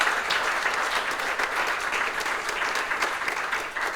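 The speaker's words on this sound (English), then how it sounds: "please give him a big applause for moderating this" Conference audience clapping for a moderator at a smart villages event, dense even applause filling the room steadily for several seconds with no talk on top.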